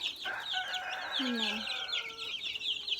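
Young chicks in their pen cluck and peep in a busy, overlapping chorus, with a brief low squawk midway, fairly faint and close.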